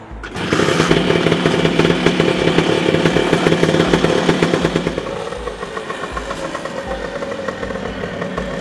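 Vespa PX scooter fitted with a new exhaust, kick-started and running with a loud, close, rapid two-stroke rattle that settles into a steadier, somewhat quieter idle after a few seconds.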